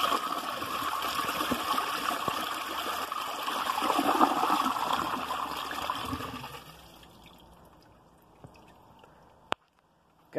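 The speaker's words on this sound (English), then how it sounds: "that flush is almost exactly like the Lamosa toilet" A 2003 Vortens Vienna toilet flushes with a loud, steady rush and swirl of water for about seven seconds, then drops to a quiet trickle as the tank refills, ending with a couple of sharp clicks.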